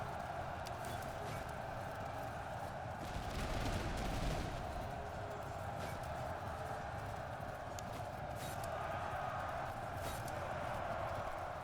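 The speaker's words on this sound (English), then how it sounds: "The enemy cannons have been annoying." Cannon and musket fire from a Russian–Prussian battle in the Master of Command strategy game, heard as a continuous dense din of distant gunfire and volleys with a slightly louder burst partway through.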